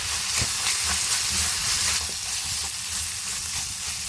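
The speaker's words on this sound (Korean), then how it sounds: "고춧가루 넉넉히 2스푼 넣고 고추기름도 내줍니다." Chili powder frying in hot oil to draw out chili oil, a steady close sizzle and hiss running throughout with no voices.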